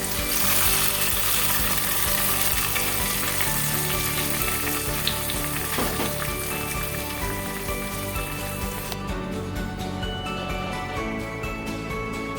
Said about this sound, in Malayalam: നമുക്കിത് കറിയിലേക്ക് ചേർത്ത് കൊടുക്കാം.